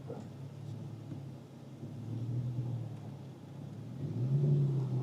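A 2012 Porsche 911 Turbo S rolls slowly over a speed bump, heard from inside the car. A low engine rumble rises and falls, with a soft swell of revs near the end and no clunks or rattles.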